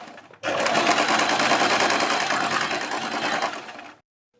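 A sewing machine runs steadily, stitching a broad, fairly thick seam along a fabric strip for a neckline, starting abruptly and whirring at an even, loud pace for about three and a half seconds before stopping cleanly.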